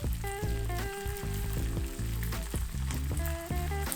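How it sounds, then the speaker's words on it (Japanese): Canned tomatoes fry in hot oil for a coconut chicken keema curry, a soft, steady sizzle with occasional spits and crackles, close but fairly quiet. "トマトにはクエン酸の酸味があるので高温の油で炒めて酸味を和らげます。"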